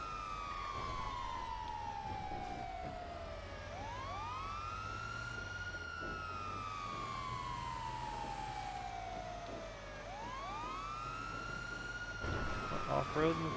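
Wailing fire engine siren in the FiveM game, sweeping up and down in long repeated cycles, loud and steady over a low engine rumble.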